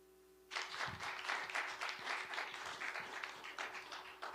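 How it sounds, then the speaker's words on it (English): An audience at a policy panel on US-China geoeconomic competition breaks into applause for the speakers, a dense burst of many hands clapping that starts abruptly and carries steadily to the end, with no talk over it. "please first join me with a round of applause to our speakers"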